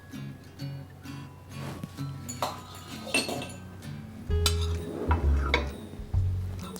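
A spoon clinks against dishes while a tül perde dessert is served and sauced, giving a few light, close, scattered taps and clinks over soft kitchen handling.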